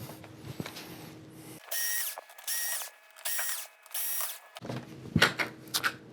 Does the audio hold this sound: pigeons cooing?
no